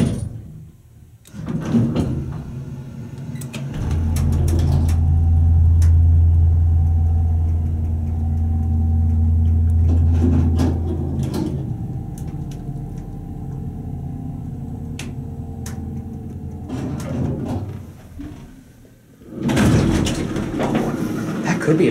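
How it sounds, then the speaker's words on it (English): A rare Campbell piston pump hydraulic elevator motor in an office complex starts up, a steady low rumbling hum that swells and holds for several seconds before easing off, with door clunks at the start and end. "We'll let the door close and we'll listen to the motor start up."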